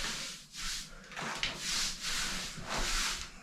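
Brush and water feathering the wet edge of fresh plaster on an existing wall: soft, repeated swishing strokes in a steady rhythm, close and fairly quiet, with no talk.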